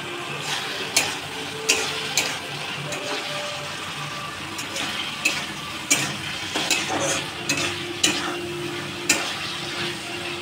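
Paneer pieces frying in a pan, a steady sizzle with periodic sharp clinks and scrapes of a spatula stirring, close and moderately loud, no voices.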